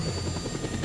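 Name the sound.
helicopter in video game Just Cause 2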